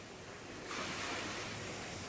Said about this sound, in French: t'as pas un bruit de vague derrière